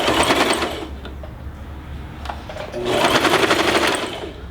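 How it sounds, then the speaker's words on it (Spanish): A sewing machine whirs loudly and close while backstitching at the start and end of a seam on a sleep mask, with two strong bursts of stitching separated by a quieter stretch. "Remato al inicio y remato al final."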